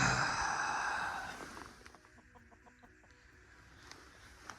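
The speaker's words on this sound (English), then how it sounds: "chickens are down over here hiding, making a fuss" Chickens on a farm cluck and fuss, a loud burst of agitated fowl calls first, then fainter scattered clucks and squawks trailing off.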